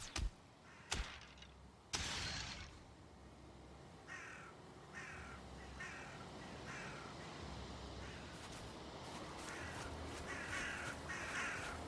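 Crows cawing in the video game Valheim, several harsh caws in a loose rhythm at moderate distance over a quiet ambient night bed, with a few sharp thumps early on.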